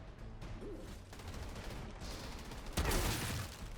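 Gunfire in the shooter game Outriders, a steady, dense rattle of shots with a louder burst of blasts near the end, with no talking.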